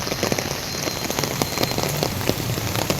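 Heavy rain pours steadily onto a flooded road, a dense, unbroken hiss with close pattering drops throughout.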